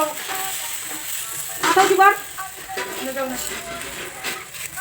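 A paratha frying in a little white oil in a kadai, a soft steady sizzle with a brief louder crackling burst midway, faint and close with no clear talk.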